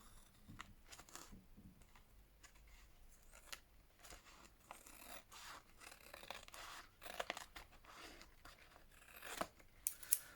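Scissors trim a rub-on transfer sheet in a series of quiet snips and soft crinkles, spread irregularly and growing a little busier toward the end.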